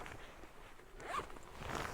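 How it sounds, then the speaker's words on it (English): Clothing zipper being opened to reach a pocket, a faint close-up rasping zip lasting about two seconds and swelling toward the end, with nothing else heard. "That zipper. Can actually access my pockets."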